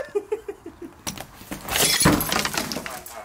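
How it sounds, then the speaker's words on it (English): Someone strikes a glass window pane in an abandoned house to break it. A quick run of light knocks is followed by a loud burst of crashing, shattering glass and scattered debris, with people nearby. "I'm gonna break this glass"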